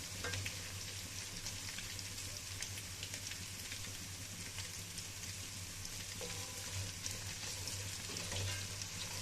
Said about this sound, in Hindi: जब तक लहसुन अदरक का पेस्ट अच्छे से भुन जाता है